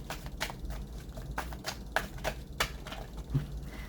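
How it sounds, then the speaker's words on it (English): Close, crisp clicks and riffling snaps of cards being shuffled, irregular and loud against a low steady hum. "These cards are shuffling so loud."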